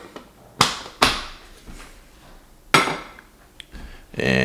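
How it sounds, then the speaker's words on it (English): Coffee beans go into a grinder: a few sharp knocks and clinks come first, close and loud, then a rattling pour at the end. "Now, into the grinder you go."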